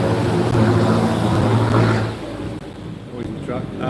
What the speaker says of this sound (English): noisy truck. Glad I don't live on this road.